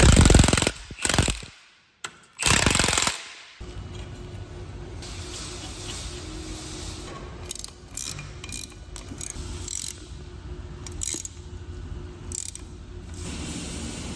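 Rear strut mount nuts coming off a 2020-25 Subaru Outback Wilderness: loud ratcheting bursts at first, then a long steady whirring run of a power tool with brief spikes.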